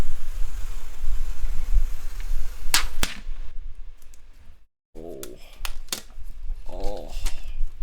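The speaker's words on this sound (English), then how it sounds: "let's go ahead and unwrap it" Paper packaging around a new iPad Air M3 tablet is unwrapped up close, with sharp tearing rips and crinkling paper rustles in irregular bursts and short pauses between them.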